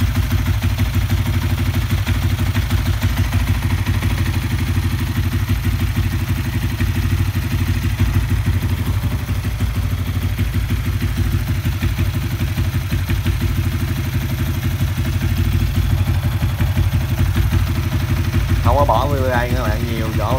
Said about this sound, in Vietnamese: Nổ máy coi cái độ êm như thế nào nha các bạn